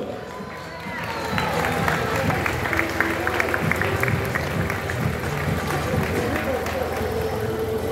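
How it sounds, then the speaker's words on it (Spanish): Crowd applause and cheering for the youngest children's race at the Cuatro Millas de Cartagena 2023 running event, a steady, dense wash of clapping with babble and scattered shouts, loud and continuous throughout. "así que vamos a darles de fuerte aplauso"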